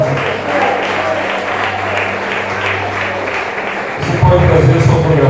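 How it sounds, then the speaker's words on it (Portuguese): A church congregation applauds in a dense, steady wash of clapping that swells louder near the end, while a preacher's voice carries on underneath. "Aplauda ele porque ele é digno."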